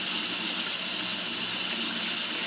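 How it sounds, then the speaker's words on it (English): Water running steadily from a tap to fill and rinse out a brass horn, a loud, close, continuous gushing with no voices. "just filling it up with water, dumping it out"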